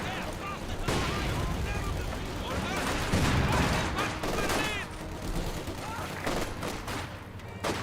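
Rapid, sustained gunfire from the strategy game Company of Heroes 2, dense volleys and cracks with booming impacts, alongside shouted voices and battle chatter throughout.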